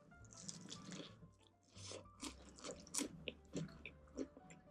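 Crunchy fried chicken being bitten and chewed up close, a series of sharp crisp crunches at an irregular rhythm, each one clear and fairly loud against a quiet background.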